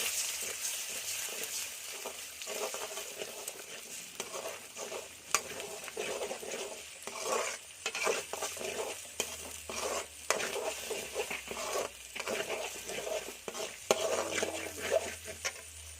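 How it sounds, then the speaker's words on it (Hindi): Four eggs fry in hot oil for Kolkata-style egg chowmein, a steady sizzle broken by repeated scraping and clattering stirs of a utensil against the pan, close and continuous throughout with no talking. "चार अंडा डाला।"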